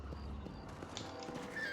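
A horse in the video game Red Dead Redemption, with quiet clip-clopping hooves and a brief whinny, faint and short.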